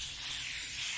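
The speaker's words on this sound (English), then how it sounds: "So what I'm doing right now is I'm sanding, light sanding on this" Light sanding across a countertop before coats of polyurethane, a steady close rubbing hiss lasting about a second.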